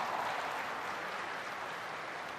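Crowd applause for a curling shot at a women's round-robin game, Japan against Russia, at the World Junior Curling Championships; a steady, even wash of clapping fills the arena throughout, with no talk over it.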